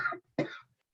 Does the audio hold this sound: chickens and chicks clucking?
no